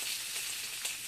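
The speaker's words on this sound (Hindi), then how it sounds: "प्याज को पिंक होने तक भूंज लेंगे" Chopped onions with grated ginger and turmeric fry in a pan, giving a dense, continuous sizzle that stays even and moderately close throughout.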